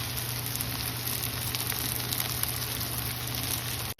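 Garlic and ginger fry in a pan alongside onions that are turning pink, giving a steady, close, dense sizzle that holds at an even level throughout, with no talking.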